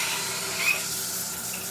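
A shower runs in an apartment bathroom, giving a steady, close hiss of spraying water with one brief faint squeak, and no voices.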